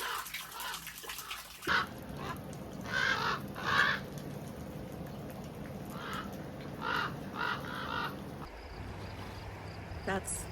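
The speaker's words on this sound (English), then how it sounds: "my crow friends that keep coming around because they love me." Crows caw in a series of loud, harsh calls outdoors near the Rio Grande, several spaced caws over a continuous rushing background.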